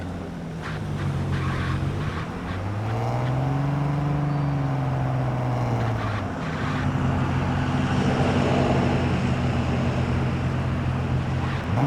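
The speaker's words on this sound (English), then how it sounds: "where did that car audio come from? Is that a car for sale?" A car engine in the Underground Garage video game drones steadily, rising and falling in pitch as it revs, loud and continuous with no talking.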